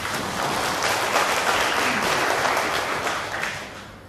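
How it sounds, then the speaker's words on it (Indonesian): An audience claps steadily and fairly loudly for a few seconds at a press gathering, a dense wash of applause that eases off slightly at the end. "Tepuk tangan dulu."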